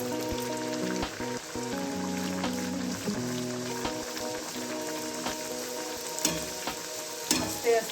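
A naan puri fries in hot oil, giving a dense continuous sizzle with bubbling crackles and occasional clinks of a utensil, close up and fairly loud, with no voices.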